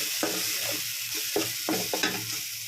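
Fresh coriander leaves frying in a pan for coriander rice, stirred with a spatula: a steady sizzle broken by a series of close, regular scraping strokes, with no one talking.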